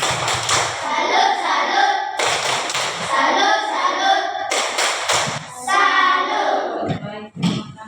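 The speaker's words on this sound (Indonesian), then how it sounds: "Tepuk salut dulu. Tepuk salut. Salut." A school class performs the 'tepuk salut' salute clap, giving sharp, patterned bursts of hand claps and thumps in several groups while children's voices chant along, all heard close up in a room.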